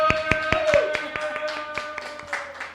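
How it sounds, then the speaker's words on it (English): Scattered hand claps from a small live-show audience, a handful of sharp separate claps spread over a few seconds against a steady sustained musical tone, fairly faint and thin rather than full applause. "Applause, please."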